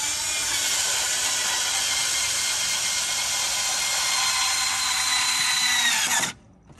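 Power tool whirring steadily on a Hellcat Redeye's cold air intake as final hold-down bolts are driven, a loud continuous drill tone for about six seconds that cuts off abruptly.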